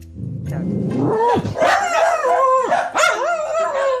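A dog gives loud, drawn-out howling yelps and barks in a continuous run, close by, with no talk over it, during an introduction between two dogs.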